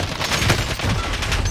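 Rapid bursts of overlapping gunfire in Call of Duty Warzone, dense and continuous, with shots from several weapons layered over one another.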